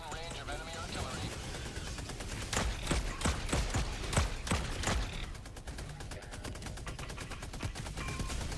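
Gunfire in the sci-fi shooter Helldivers 2: a dense burst of sharp, rapid shots stacked under in-game sound effects and a talking voice, with several louder cracks clustered in the middle.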